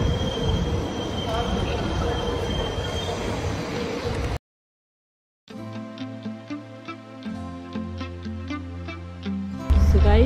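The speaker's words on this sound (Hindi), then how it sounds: "हमारी ट्रेन आ गई है चल चलो लेट्स टेक दिस ट्रेन" A Singapore metro train pulls into a station: a loud, steady rumble of wheels and motors, then a short silence, then a lighter mix of tonal hums and clatter, with a sudden louder burst at the very end.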